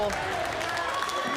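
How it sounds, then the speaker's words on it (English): Audience applause at an NHRL robot combat event, a steady wash of clapping and crowd noise beneath a commentator speaking over it, continuous through the short stretch. "Giving a good round of applause to these teenagers from Team Stamina"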